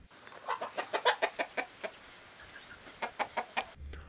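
Farm chickens cluck in a quick series of sharp, rhythmic calls close by, one burst after another with a short pause in the middle, over a quiet outdoor background.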